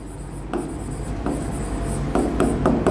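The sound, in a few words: writing a line on the board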